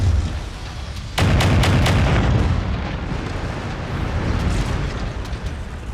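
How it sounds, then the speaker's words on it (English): A mech going critical and exploding in MechWarrior 5 sets off a sudden loud blast after a quieter lead-in, followed by a long rumbling roar and debris that slowly fades. "Watch out, that mech is going critical."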